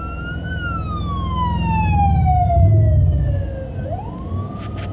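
A police motorcycle's siren wails loud and close, its tone sliding steadily downward and then sweeping back up, over a continuous rumble of road and engine noise.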